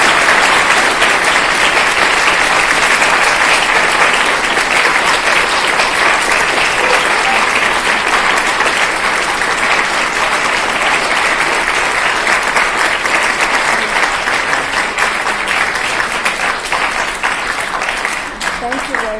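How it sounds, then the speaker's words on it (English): An audience gives a long, steady round of applause, dense clapping that fills the room at an even level for the whole stretch. "We can give her a big round of applause."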